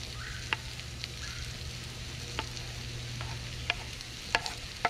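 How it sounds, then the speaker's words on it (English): Potatoes, mushrooms and onion frying in a skillet for a Southern-style breakfast, a low steady sizzle broken by occasional scraping stirs and light clicks of a utensil against the pan. "Keep on stirring."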